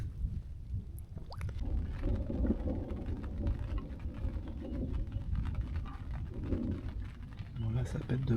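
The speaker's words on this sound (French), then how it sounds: "Je sais pas si vous arrivez à m'entendre, ça gronde relativement fort." Thunder in a thunderstorm rolls as a low, continuous rumble that swells and fades, heard close against steady rain, with a bird call breaking through and someone speaking over it.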